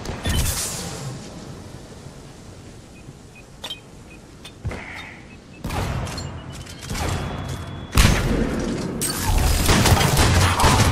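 Weapons fire during a Mass Effect 3 combat encounter, starting as sparse sharp cracks and building into dense, sustained volleys of loud bursts over the later half.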